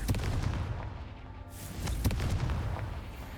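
A Confringo fire spell blast in the video game Hogwarts Legacy, rumbling booms with a sharp burst midway and a second cracking hit shortly after, over low continuous rumble.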